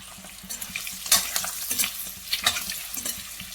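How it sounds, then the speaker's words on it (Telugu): Egg masala frying in a pan, sizzling and crackling, with bursts of scraping and stirring over a constant hiss, close up. "మీద లేయర్ క్రిస్పీగా అయ్యాక ఫ్రై చేసుకోవాలి"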